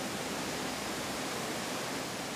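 Wapama Falls, a 1,400-foot waterfall in Yosemite, heard as a dense, steady, full-bodied roar of rushing water that stays constant and loud throughout.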